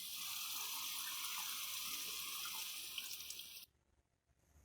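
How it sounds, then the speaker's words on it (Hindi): Water pours steadily from a glass into a pan of potato and egg curry, a continuous gushing splash lasting several seconds and then stopping abruptly, followed by quiet. "अब हम इसमें 1 गिलास पानी का ऐड करेंगे।"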